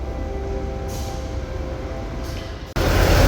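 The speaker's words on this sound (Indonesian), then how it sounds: "itu sepertinya keretanya akan datang di jalur 7" A steady low rumble of an airport train arriving at a station platform, with faint squeals, then a sudden louder rush of noise near the end.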